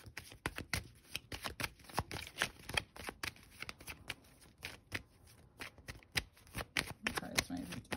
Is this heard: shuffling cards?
yes